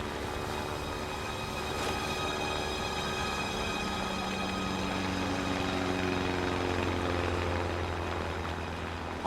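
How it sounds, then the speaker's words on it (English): Propeller aircraft approaching over the open Tasman Sea, a steady droning engine hum that slowly swells in loudness, with no voices. "I see this plane coming towards me."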